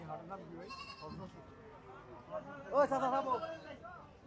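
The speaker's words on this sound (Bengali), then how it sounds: "এখানে ছোট ছোট দুইটি ছাগল নিয়ে আসা হয়েছে" Two small goats bleat at a Bangladeshi cattle market, a few short nasal calls rising over a steady murmur of crowd chatter and nearby voices, growing louder toward the end.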